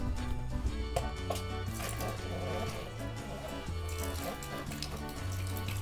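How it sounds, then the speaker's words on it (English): Water runs from a faucet in an Airstream trailer, fed by its pump at low pressure, a faint steady splashing trickle heard beneath music with a rhythmic bass line. "We got running water, huh?"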